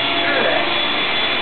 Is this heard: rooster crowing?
no